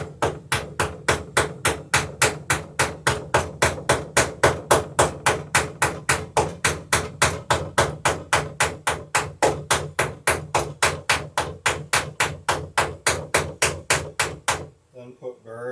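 Rapid, steady hammer strikes drive copper rivets through the lapped planks of a wooden Alpha dory, dozens of sharp metallic blows in an even fast rhythm, close and loud, ending abruptly.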